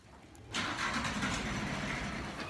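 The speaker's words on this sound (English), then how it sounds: "Oh, we got a tractor going on over here." A farm tractor engine starts up after a quiet moment, then runs at a steady mid-pitched rumble, fairly near and constant, with no talk over it.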